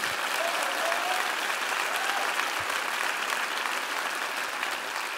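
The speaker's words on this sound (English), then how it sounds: "On peut l'applaudir aussi." Steady audience applause fills a small concert venue for a French pop singer's live session, dense and continuous at an even level throughout with no clear voices breaking through.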